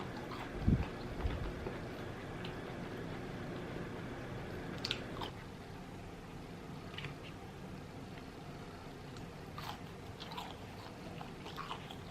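Fries with barbecue sauce being eaten close-up: soft bites and wet chewing sounds come in short irregular bursts over a steady low background, with no talking.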